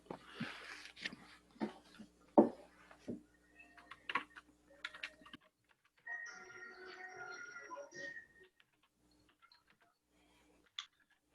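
Typing on a computer keyboard during an office software lesson, quiet scattered key clicks in short bursts with pauses, faint and close, followed by a few lighter taps near the end.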